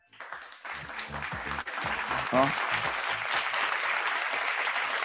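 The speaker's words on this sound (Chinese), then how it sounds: "同意的话给他一个掌声一下。" An audience at a seminar breaks into applause that builds quickly and holds as a steady wash of clapping, with a speaker's voice briefly over the start.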